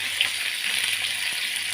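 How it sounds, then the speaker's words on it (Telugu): Mustard seeds, lentils and curry leaves frying in hot oil for a tempering, giving a steady close sizzle with faint crackles and no talking. "పోపులన్నీ మొత్తం వేగిపోయే వరకు వేసుకున్నాను"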